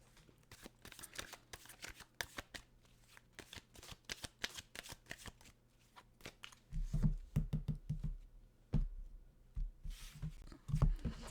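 Tarot cards shuffled by hand at close range, a dense run of crisp riffling flicks and slaps that grows heavier and thumpier partway through, with no voices.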